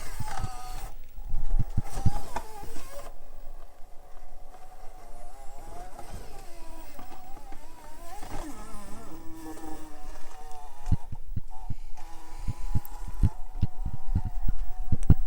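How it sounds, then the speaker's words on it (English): A small SCX24 RC crawler runs over a course with a whirring motor and a rubbing, buzzing scrape from its battery strap catching on the motor, steady and close, with sharp clicks and knocks from the chassis. "I think my battery strap is rubbing on the motor."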